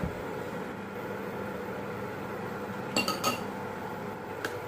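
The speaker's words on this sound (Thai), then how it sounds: "คนเพื่อไม่ให้ไข่มุกจับตัวกันเป็นก้อนนะคะ" Tapioca pearls being stirred in a pot of boiling water, a steady simmering hiss with a couple of brief metallic clinks of the spoon against the pot near the end.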